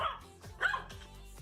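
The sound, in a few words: small dog barking at a big dog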